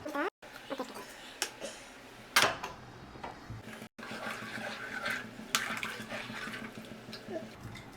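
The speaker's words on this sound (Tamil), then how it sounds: "இல்லை தண்ணியாக குழம்பு வேணும்னா அதுக்கு தகுந்த மாதிரி தண்ணி நம்ம தேவைக்கேற்ப ஊற்றிக்கிறோம்" Water poured into a pot of mutton curry as it cooks, a splashing, trickling pour that carries on for several seconds with a couple of brief gaps and sharper splashes.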